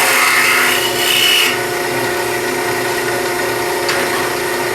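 A carving tool hollows out the inside of a wooden scoop, producing a steady, close, dense rasping scrape that runs continuously, a bit brighter and louder in the first second and a half, with no talk.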